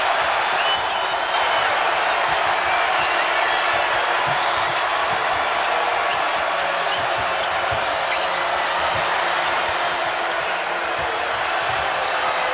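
Loud, continuous crowd roar fills a basketball arena during the 2018 Big 12 Championship game between West Virginia and Kansas, with scattered ball bounces and an announcer's commentary underneath.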